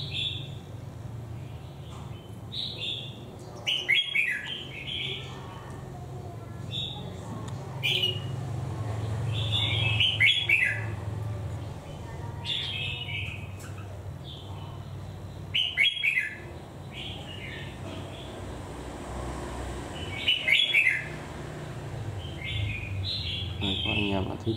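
A crested songbird kept in a cage for ten days sings an unusual song, repeating short bright chirping phrases every few seconds over a low steady background hum.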